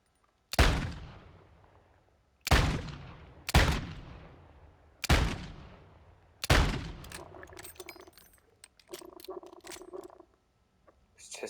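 Five sharp gunshots from a close-range loadout in Warzone 2, fired from the hip at spaced intervals, each with a long decaying tail, followed by scattered clicks and rattles.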